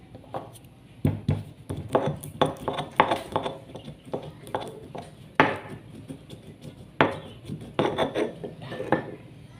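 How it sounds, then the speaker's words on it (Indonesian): Whole nutmeg and spices pounded in a mortar for a Betawi beef rib soup, giving a steady series of sharp, close knocks and clinks at an uneven rhythm, with no talking. "Terus kita mau tumbuk sekarang perbumbuannya"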